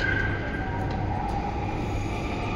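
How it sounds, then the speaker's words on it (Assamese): A metro train pulls away from the station platform with a continuous low rumble and rolling rail noise, plus faint high squeals and tones above it. "সেইটো ট্ৰেইন গুচি গ'ল নাপালোঁ"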